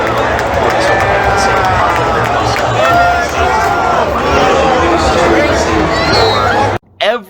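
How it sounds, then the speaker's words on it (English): A stadium crowd cheering before the Super Bowl, a loud, continuous roar of many voices with shrill whistles and shouts, cutting off abruptly near the end. "Everybody in the stadium is cheering"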